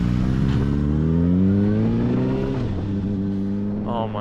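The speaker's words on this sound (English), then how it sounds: "all I've done is accelerate from 0 to 60 with barely any throttle" A 600cc supersport motorcycle fitted with Yoshimura pipes pulls away, its engine note rising steadily in pitch as it accelerates, loud and close for the whole stretch, with a brief high whine near the end.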